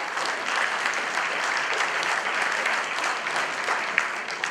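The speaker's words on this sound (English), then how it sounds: "Give him a round of applause, please" Sustained audience applause at a school reunion gathering in Chicago, steady dense clapping holding at an even level throughout without a break.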